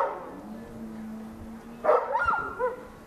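Sled dogs at a veterinary checkup before a race bark and yip in a few sharp bursts over a quiet hum, moderately close, with no talking.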